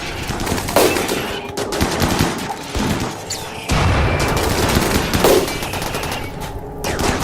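Mechanoid gunfire in the video game Rimworld: sustained rapid bursts of shooting with heavy booming impacts, a dense, loud barrage that carries on without pause.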